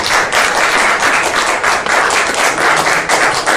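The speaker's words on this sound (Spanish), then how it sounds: "pido un aplauso para Mario Díaz Mercado." A crowd applauds steadily, dense clapping continuing loud and unbroken throughout with no talking over it.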